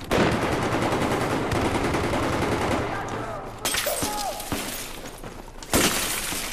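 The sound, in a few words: single-shot gunfire in Battlefield 4 video game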